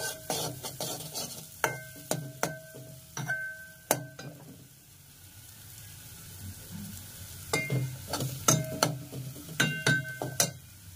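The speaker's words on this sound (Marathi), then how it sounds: "आता हे सगळं जे मसाला आहे ना तेल सुटेपर्यंत भाजायचं।" A spoon clinks and scrapes against a pan as egg curry masala with chicken masala is stirred and fried in oil, sharp metallic strikes in bursts over a soft, low sizzle, with a quiet pause in the middle.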